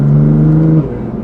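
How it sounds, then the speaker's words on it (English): A BMW M4 GTS with its S55 twin-turbo inline-six, close and loud, holds a steady droning exhaust note for under a second before dropping off. "the car sounds really good once you get past that 2K mark"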